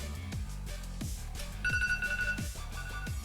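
A phone alarm rings after a one-minute timer runs out, a repeating electronic tone pattern with sharp rhythmic pulses and a sustained beep, clear and close.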